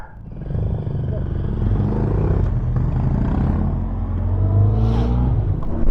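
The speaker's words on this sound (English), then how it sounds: "So now Paolo is riding with me for a few kilometers, then we split up" A Voge 300 Rally motorcycle ridden on the road, its engine droning steadily and close throughout, with the pitch rising under acceleration toward the end over rushing wind.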